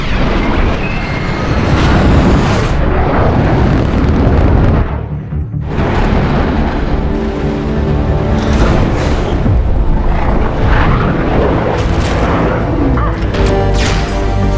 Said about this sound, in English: Bombs away. Bullseye!